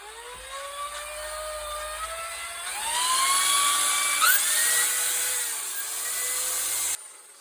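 A steady electric drill whirs continuously while polishing a pool table rail, its high whine rising in pitch midway and holding before cutting off abruptly near the end.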